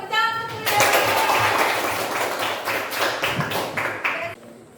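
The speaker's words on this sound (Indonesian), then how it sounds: "Oke, tepuk tangan untuk" Pupils in a classroom clap their hands at the end of a lesson, a dense patter of many claps that starts after a spoken line, stays steady, then fades out.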